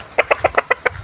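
A red hen clucking close by: six short, sharp clucks in a steady, even rhythm.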